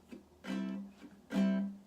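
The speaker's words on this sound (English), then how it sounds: "So basically it's our basic jazz strum that sounds like this." A jazz guitar plays a basic strum, two sustained chord hits a beat apart with lighter muted scratches between, quiet and close.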